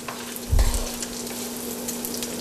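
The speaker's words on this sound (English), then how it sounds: "in this oil I'm going to put first a cup of cabbage that we chopped very gently and let it cook." Chopped cabbage fries in olive oil in a skillet, a close, even crackling sizzle with a brief low thump as it settles, then steady hissing.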